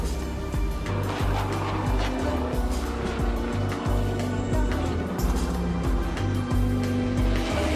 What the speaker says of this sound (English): The racing machines break the silence of the early morning with their exhaust note echoing throughout the quiet town